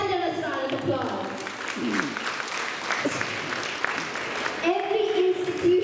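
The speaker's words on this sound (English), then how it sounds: "Kindly give him a thunderous round of applause." Audience applause at a school cultural program, a steady close wash of clapping lasting several seconds, with a voice speaking over it near the end.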